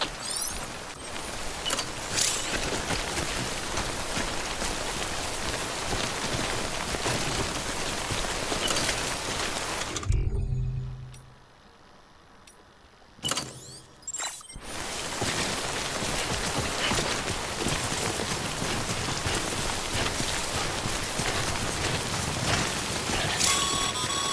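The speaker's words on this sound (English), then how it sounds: "Don't stay out in the rain any longer than you have to." Timefall rain in Death Stranding pours as a dense, steady hiss, cutting out abruptly for a few seconds before resuming just as heavily.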